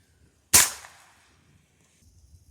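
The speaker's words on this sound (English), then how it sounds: "we're going to do a Hornet pellet versus 3 potatoes lined up" A single sharp crack of an air rifle fires a .22 calibre Hornet pellet into a row of three potatoes, a close, loud report that fades quickly into quiet.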